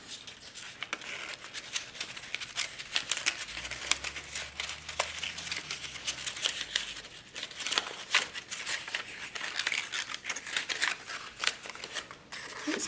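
Paper is folded and creased toward the center to make a DIY pinwheel, quiet close crinkles and sharp rustling snaps coming in irregular bursts, with a faint low murmur in the background.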